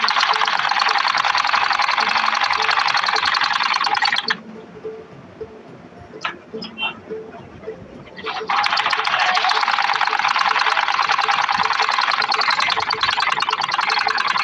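A sewing machine stitching the side seams of an Arabian jubba: two long, loud, steady runs of fast whirring stitches close by, split by a pause with faint handling clicks.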